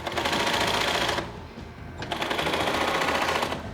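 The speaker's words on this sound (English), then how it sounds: "The uppers are now sewn together, the front and the back part." A sewing machine stitches leather shoe uppers, front and back pieces joined, in a loud, rapid, steady chatter that breaks off briefly and then resumes.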